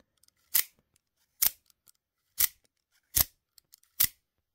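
A genuine Microtech Combat Troodon OTF knife fires and retracts its blade repeatedly, five crisp metallic snaps spaced under a second apart, close and clear with faint handling clicks between, no speech.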